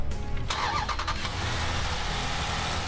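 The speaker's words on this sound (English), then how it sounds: "That's the throbbing sound of" A 2014 Jeep Grand Cherokee SRT with a Hemi V8 cranks and fires up close by, giving a sharp burst of starter and ignition noise. It then settles into a deep, throbbing idle rumble.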